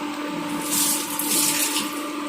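Paneer pasanda gravy comes to a boil in a pan, giving a continuous loud bubbling and hissing wash close to the mic, steady throughout with no talk.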